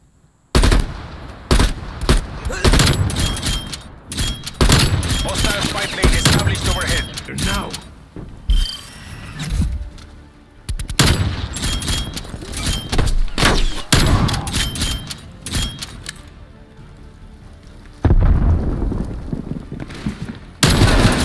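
XM4 assault rifle fire in Call of Duty Black Ops Cold War comes as loud, rapid automatic bursts separated by brief pauses, with other game sounds between volleys.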